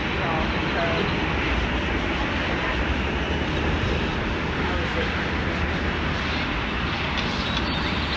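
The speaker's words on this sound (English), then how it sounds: "let's go look at this big yellow Spirit plane" A big yellow Spirit Airlines airplane at an airport, its engines giving a loud, steady roaring whoosh that fills the whole span without letup.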